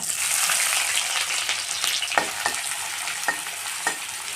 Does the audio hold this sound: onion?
yes